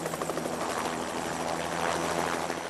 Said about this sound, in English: The Omaha Police helicopter is on patrol almost every night